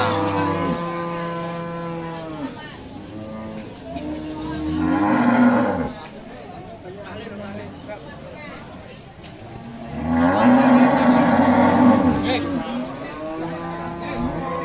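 Cattle moo loudly and at length at Pasar Pon Blora, a cattle market. Two long, drawn-out calls rise and fall close by over a steady murmur of voices and market noise.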